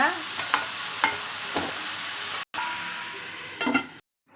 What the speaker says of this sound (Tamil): வெங்காயம் நல்லா வதங்கிச்சு இப்போ வந்து பீர்க்கங்காய் அதிலே போட்டுக்கலாம் கிளறிட்டு